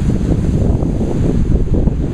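At an unusually high tide during a snowy blizzard, waves break over rocks in a loud, rough, continuous roar mixed with heavy wind buffeting the microphone.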